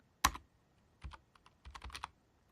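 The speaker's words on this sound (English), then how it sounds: "So I'm going to start by typing" Keystrokes on a British-layout computer keyboard while programming a Raspberry Pi in Ichigojam BASIC: one loud opening tap, then a short burst of quick clicks in an irregular typing rhythm, close and clear in a quiet room.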